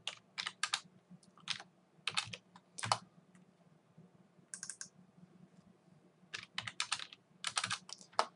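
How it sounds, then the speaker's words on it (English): Numbers are typed on a computer keyboard in short, irregular bursts of crisp key clicks with brief pauses between, close up and fairly quiet, with no talking. "The way you type it in is you just double click on it and type your number in."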